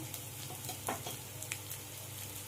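Onion, ginger and garlic masala frying with turmeric in a pan for a prawn dish, a quiet steady sizzle broken by a few scrapes and taps of stirring.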